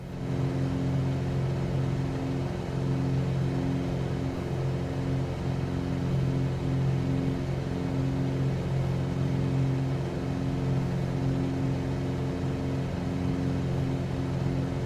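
A Piper Cub light aircraft engine drones steadily while climbing out after takeoff, a loud, continuous, even hum with a low harmonic buzz and no voices.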